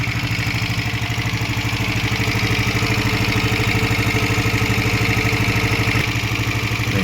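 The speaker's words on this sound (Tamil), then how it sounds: "வண்டி ஸ்டார்ட் பண்ணிட்டோம்" A BS6 motorbike engine running at idle after starting, a loud, steady close-up putter with an even rapid pulse throughout.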